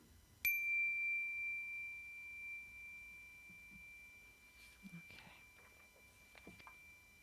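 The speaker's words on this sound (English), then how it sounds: "we'll be ringing the chime at the transition to each exercise today" A single meditation chime is struck once, giving a clear bright ring that fades slowly over several seconds in a quiet room, followed by faint shuffling and a few soft handling noises.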